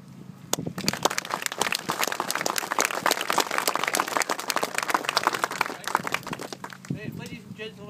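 An audience applauds the show hut committee at the opening of a show hut, dense clapping from many hands lasting several seconds before tapering off, with a voice speaking at the end.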